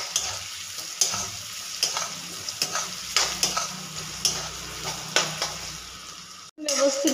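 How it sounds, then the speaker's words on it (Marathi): Onion sautéed and stirred in a pan until pink: a steady, moderate sizzle punctuated by regular clicks and scrapes of a spoon against the pan, ending in a brief pause and a clunk. "तर आपण हे कांदा गुलाबी होईपर्यंत व्यवस्थित परतून घेणार आहोत"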